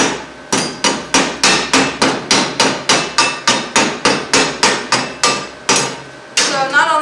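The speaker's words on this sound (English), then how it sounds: "once we remove this slag, you'll see that this slag's a lot harder to remove" A hammer chips hard slag off a stick weld made with a Forney Easy Weld 100 ST, around twenty sharp, loud, close metallic strikes in a steady fast rhythm, then a short pause and scraping.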